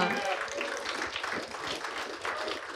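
Clapping and applause from a congregation during a church prayer service, a steady dense wash with voices talking over it.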